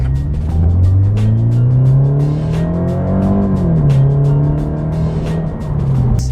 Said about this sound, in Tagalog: Gusto ko yung exhaust sound niya, HKS, good job.